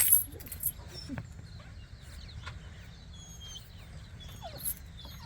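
Dogs sniffing and softly whimpering outdoors on a farm with sheep nearby, faint snuffles and small whines spread across the clip, with occasional jingling and distant birdsong.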